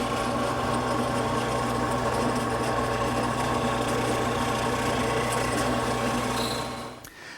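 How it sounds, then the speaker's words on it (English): A drill press bores holes into a chair leg, a steady whirring machine drone that runs unbroken and fairly loud before dropping off sharply at the very end. "Now I can position the leg to drill the holes on the other side."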